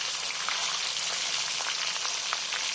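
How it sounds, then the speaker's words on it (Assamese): Fish fries in a pan of hot oil for a taro and elephant apple fish curry, making a continuous, even crackling sizzle with small pops, close and moderately loud, with no talking. "তেনেকৈ মই বাকীকেইটা মাছটো লৰাই ল'ম।"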